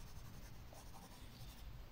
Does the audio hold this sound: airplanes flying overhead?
no